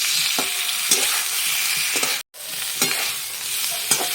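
Jackfruit frying in a pan with ginger and chili paste, sizzling steadily and close by, with the spatula scraping and stirring at intervals and a brief cut to silence partway through.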